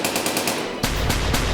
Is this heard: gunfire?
yes